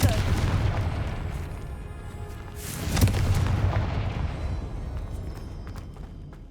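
A deep booming explosion from the Confringo fire spell in Hogwarts Legacy bursts over a continuous rumbling game soundscape, with a few rolling thuds trailing after it.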